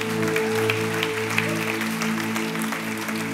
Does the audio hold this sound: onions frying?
no